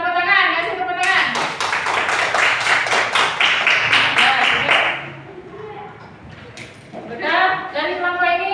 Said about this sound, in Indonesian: Coba tepuk tangan, kasih tepuk tangan.